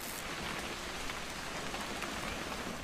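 Steady rain falls in What Remains of Edith Finch, a soft, even wash of drops hissing on surfaces, fairly quiet and constant with no voices.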